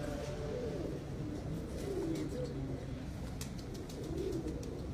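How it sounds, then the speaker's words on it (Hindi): Pigeons kept by a fancier coo softly in a loft, a faint, low burbling repeated over a steady background hum, with no clear speech. "ये जी जानलेवा उस्ताद के कबूतर हैं"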